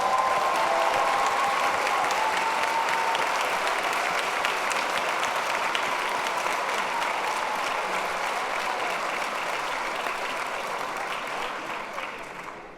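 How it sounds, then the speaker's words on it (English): Sustained applause from the audience at a medical school white coat ceremony for the Class of 2025, a dense, steady roar of many hands clapping that holds for about twelve seconds before tapering off at the end. "Let's give them one more round of applause."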